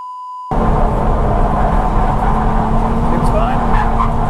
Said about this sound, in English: let's just go do a few clutch kicks, make sure it holds the power fine and that the clutch isn't slipping